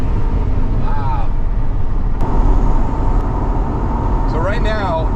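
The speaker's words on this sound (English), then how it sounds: "So right now, light throttle, like this, there's no misfires." An 8.1L big-block engine in a C8 Corvette drones steadily at light throttle on the road. The low, loud, continuous rumble runs under people talking.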